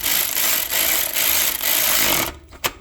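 Ratchet wrench tightening a bolt on a park interlock bracket of a 2014 Butler, rapid repeated clicking strokes in a steady rhythm, close and fairly loud, ending with a few separate metallic taps, no talking.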